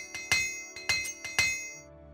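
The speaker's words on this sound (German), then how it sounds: "Wir können mal wieder reparieren." Repair hammer in the Morrowind video game striking with sharp metallic clinks, about five quick strikes in uneven pairs with ringing tails, clear and alone with no talk.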